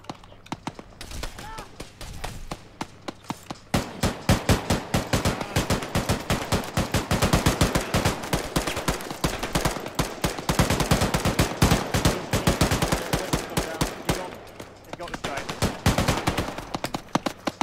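Sustained gunfire from a tank and guns in Arma 3, long rapid volleys of loud cracking shots overlapping almost continuously for many seconds, with shouted voices among them.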